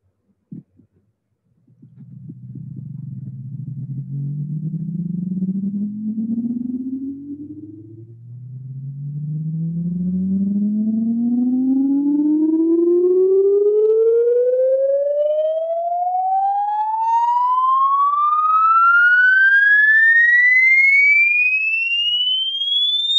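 A pure test tone sweeps steadily upward in pitch, starting low and rising past 200 hertz into the higher range, a smooth continuous glide that stays loud and alone throughout, with faint harmonic overtones above it.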